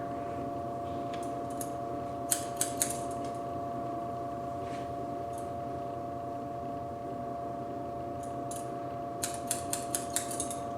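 Scissors snip through hair during a restyle of flat, shapeless hair damaged by extensions, two short bursts of quick close crisp snips with a quiet gap between, over a steady low hum.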